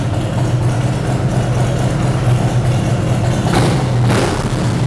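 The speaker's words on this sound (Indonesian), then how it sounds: "suara khasnya dari Harley Davidson Fatboy 2019 ini" A 2019 Harley-Davidson Fat Boy motorcycle with air suspension idles close by in a loud, steady, deep rumble that holds even throughout, with no pauses.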